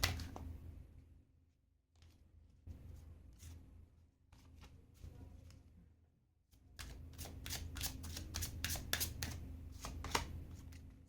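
Tarot cards shuffle in quiet, brisk bursts of riffling and flicking, faint at first and then louder and more continuous toward the end, with no speech over them.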